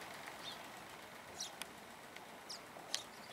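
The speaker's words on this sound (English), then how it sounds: "Cool these birds are." Small birds chirp faintly in short, scattered peeps at a tiny house construction site, several brief calls spread apart over a soft, steady background hiss.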